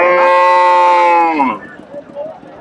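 A Friesian heifer lets out one long, loud, close moo lasting over a second, then it trails off into quieter farmyard background.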